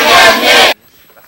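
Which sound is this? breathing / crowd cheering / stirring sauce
crowd cheering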